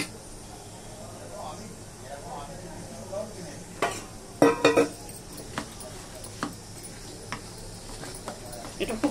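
Batter of flour, rice flour and besan being beaten in a bowl, soft rhythmic stirring with a few sharper knocks of utensil against the bowl, a voice talking over it.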